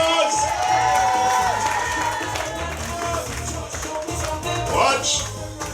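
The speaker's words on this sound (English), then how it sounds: "All give him a round of applause." At a public meeting, a crowd claps and cheers for a man, with whoops and raised voices over continuous applause, and talk mixed through the noise.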